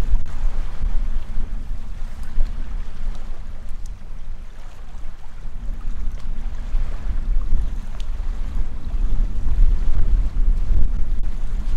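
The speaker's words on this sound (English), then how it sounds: "Very windy." Strong wind roars and buffets the microphone at a lakeside campsite in a rainforest, a steady low rumble with gusts swelling and easing throughout, no voices present.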